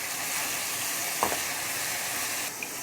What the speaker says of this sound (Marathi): आता तेल गरम झाले, त्याच्यामध्ये हे मिरची टोमॅटोचं वाटण टाकून घ्यायचं आहे.